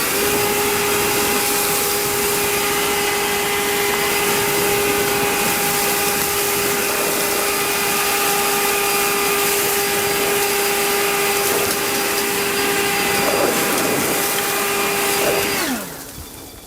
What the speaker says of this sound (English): This thing clears dry bamboo leaves, no problem at all